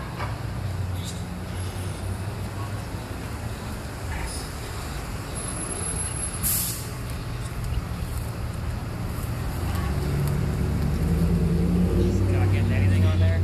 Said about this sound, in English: Is it hard to hear because of the traffic?